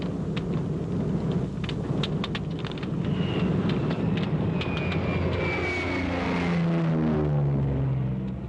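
A P-38 Lightning aircraft engine roars in flight, a loud continuous drone with a pitch that glides downward as the plane passes, alone without talk.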